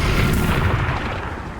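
A fiery Confringo spell explosion from the Hogwarts Legacy video game, a loud sustained booming blast with dense rumbling low end that fills the whole moment without any talk.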